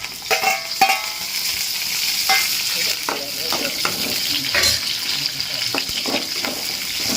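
Onion, curry leaves, mustard seeds, cumin and urad dal crackle and sizzle in hot oil, a loud continuous frying hiss with scattered pops and stirring scrapes, and no voices.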